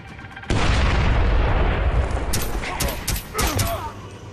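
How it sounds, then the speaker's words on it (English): A grenade bursts with a loud, sudden, booming blast in Splinter Cell Blacklist, followed by a long rumbling roar and several sharp crackling impacts, close and dominant, with a voice partly over it. "Chucking grenade."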